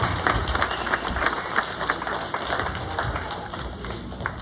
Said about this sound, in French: sous applaudissement assemblée